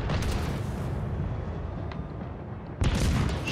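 Loud, dense naval gunfire from warships in World of Warships Legends, a continuous rumbling barrage with a sharp fresh salvo near the end.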